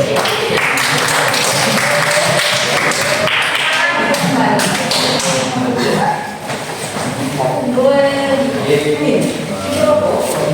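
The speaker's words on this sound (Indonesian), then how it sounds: "Tepuk tangan kelompok" A group of students in a classroom claps together in a rhythmic pattern of sharp taps and thuds, with a teacher's voice speaking over parts of it.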